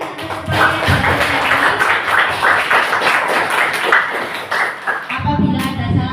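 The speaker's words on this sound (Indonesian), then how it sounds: "Beri tepuk tangan yang meriah untuk kalian atas upaya yang" A school class gives a lively round of applause, with many hands clapping in a dense, continuous patter that holds steady before fading out near the end, as a voice speaks over it.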